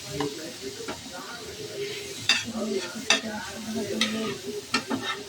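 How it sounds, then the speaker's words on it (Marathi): Garlic, chilli and cumin sizzle steadily in oil in a pan while a utensil stirs and scrapes, with sharp clinks now and then. "लसूण मिरची जिरं चांगलं भाजून घ्यायचं"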